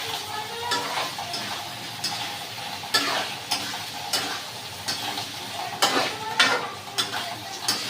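Eggs cook in a frying pan with potato and chana dal, a constant sizzle broken by regular sharp taps and scrapes of a spatula stirring against the pan, with no talk.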